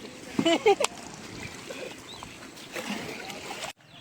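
A small boat moves through water with a steady wash of broadband water noise, a few brief tonal chirps near the start, and faint voices in the background before it cuts off.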